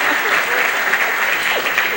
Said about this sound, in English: just go ahead and clap